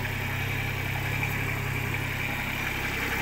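A new small tractor's engine idles with a steady, even mid-low rumble and constant hum, close by and unchanging throughout.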